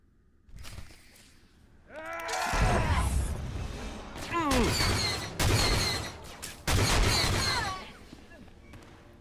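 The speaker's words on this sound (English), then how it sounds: "Get your guns out, folks." Blaster gunfire in a shootout from the Star Wars: The Old Republic game, several loud dense volleys of rapid shots in bursts, with voices shouting over the firing.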